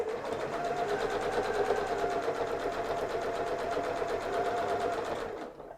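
A sewing machine stitching through layered fabric at a longer stitch length runs in a steady, rapid, even hum and patter, close and loud, before slowing and stopping at the end.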